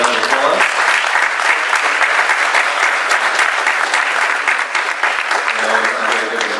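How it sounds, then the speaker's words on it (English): Audience at a fintech meetup panel on urban challenges applauding the panelists, a dense, steady clatter of many hands clapping that holds loud for several seconds. "Let's give a round of applause."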